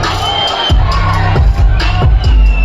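A large university audience in Jalandhar shouts and cheers loudly at a live session, a dense roaring crowd with repeated bursts of whoops and yells.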